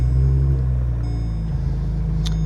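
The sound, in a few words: car engine starting up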